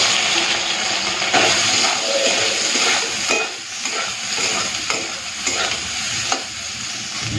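Soybean chunks frying in hot oil in a pan, a loud continuous hissing sizzle with bursts of crackle and occasional stirring scrapes, close up and without speech.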